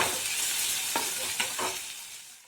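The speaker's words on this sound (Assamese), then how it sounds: "এতিয়া মই ইয়াত আদা নহৰু আৰু পিঁয়াজৰ পেষ্টটো অলপ ৰঙচুৱা হোৱালৈকে ভাজিম।" Ginger, garlic and onion paste fries in a pan for pigeon curry, a steady close sizzle with a few scraping stirs of a spoon and no talking.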